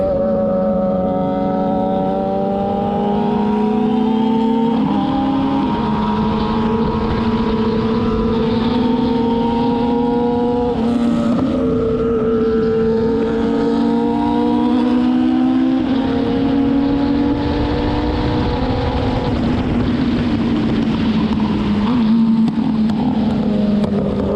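Kawasaki Z900 and ZX-10R motorcycles accelerating on the road, a loud continuous engine roar rising and falling in pitch through repeated gear changes, with heavy wind rush throughout.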